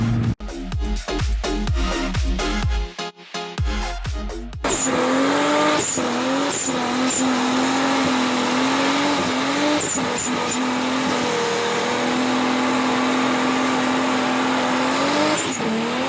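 Drift car at an event with its engine revving hard and tires squealing in a long, loud, continuous howl, after a burst of loud music and noise at the start.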